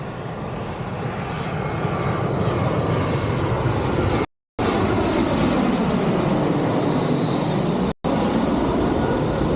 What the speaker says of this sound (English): Just like plane after plane, it's great, isn't it?